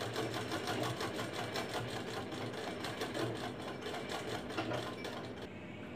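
A sewing machine stitches continuously along a strip on a blouse, a fast, even, rattling run that stays close and steady for several seconds without pause.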